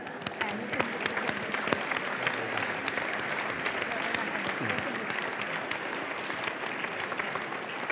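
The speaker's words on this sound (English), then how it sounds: "And give yourselves a round of applause," An audience at a change-makers event applauds itself, continuous crowded clapping holding a steady, moderately loud level throughout, with some scattered voices underneath.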